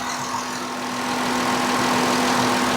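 A 2014 Dodge Grand Caravan engine idles with a cylinder 5 misfire, giving a steady, loud, close rumble with a constant hum and an uneven, rough undertone, with no talking.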